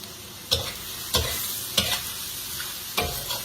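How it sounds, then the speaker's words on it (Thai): Noodles tossed with oyster sauce in a frying pan, giving four or five sharp scraping stirs at a steady rhythm over a soft sizzle, close and with no talking. "นี่เราต้องคลุกนะคะก็เป็นอันแล้ว น้ำมันหอยเรา"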